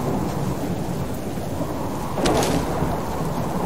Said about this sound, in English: It is definitely harder with the